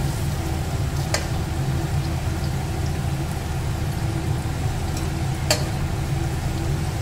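Vegetables frying in hot oil in a home kitchen as they are lifted out and drained, a steady close hiss and sizzle with two brief clinks of a utensil against the pan.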